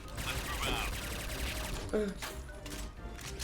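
Rapid bursts of assault rifle fire from the game Point Blank crackle in the background while someone talks over them.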